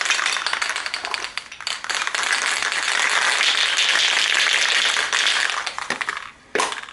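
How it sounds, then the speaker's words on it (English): Two spray paint cans are shaken hard for hydro dipping, a fast continuous metallic rattle of the mixing balls with brief pauses near the end. "you're going to make sure you shake them both up really good."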